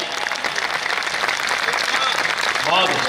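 Audience applause at a Hindi comedy poetry gathering (kavi sammelan) fills the room as a dense, steady wash of clapping, with voices mixed in near the end.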